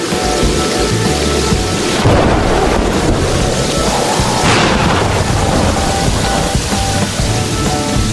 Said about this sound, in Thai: ฝนมันตกอะ